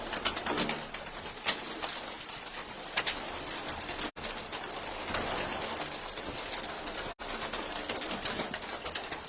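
Pigeons kept for sale coo and rustle together in a loft, a steady chorus of soft cooing with occasional wing flutters and brief clattering bumps, close and continuous, without speech.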